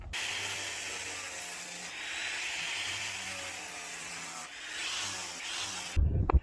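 A 60-grit flap wheel on a grinder sands stainless steel to straighten the grain, a steady close abrasive rubbing hiss that runs continuously and briefly eases midway before stopping abruptly near the end.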